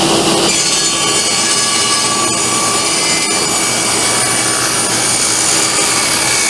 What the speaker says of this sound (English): the saw blade will cut straight through here and leave a taper on the piece